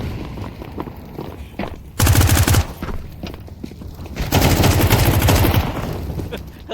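Bursts of video game gunfire, including rapid machine-gun fire, come in two loud stretches of a few seconds each, with quieter play and movement sounds between them.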